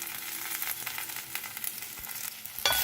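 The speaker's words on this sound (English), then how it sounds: "Stir it in so that oil gets covered to all the pieces." Okra frying in oil in a thick-bottomed pan, seasoned with salt and turmeric, crackles in a steady close sizzle while being stirred, with a brief utensil clatter near the end.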